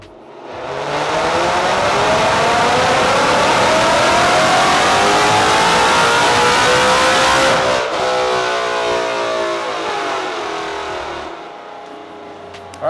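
A 2016 Mustang GT, salvaged and rebuilt, runs hard on chassis dyno rollers, its engine revving loud and steady through a long rising pull, then easing off as the roar fades.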